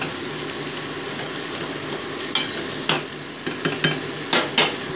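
Mixed winter vegetables with cabbage sautéing in a pan, a low steady sizzle broken by a cluster of sharp spatula scrapes and taps toward the end.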